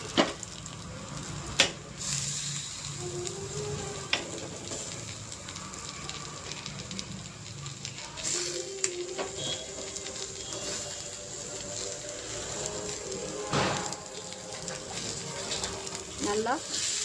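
Chicken liver frying in ginger garlic paste in a pan, a steady soft sizzle running throughout with a few sharper crackles and stirring scrapes, fairly close and moderate in level.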